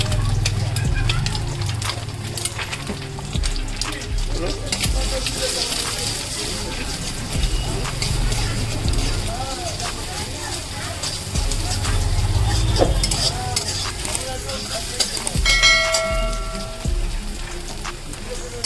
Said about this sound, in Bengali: ডিম দুটো দিয়ে ভালো করে নেড়ে ডিমের ভুজিয়া টাইপের যেমন তৈরি করা হয়